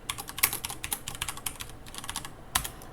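Computer keyboard typing while a toString method is coded: a dense, steady run of close clicks and key taps with a couple of louder strokes, no talking.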